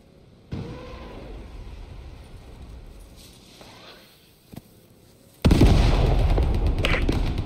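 Artillery firing in the Post Scriptum video game: a heavy boom with a rumbling tail, then after a quieter stretch a second, much louder blast that keeps roaring to the end.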